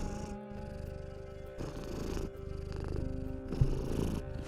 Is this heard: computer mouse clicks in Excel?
no